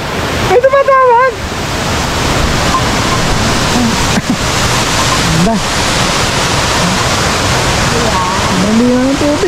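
Tanap Avis Falls pours with a loud, constant roar of rushing water close by, filling the whole stretch, while people talk briefly over it.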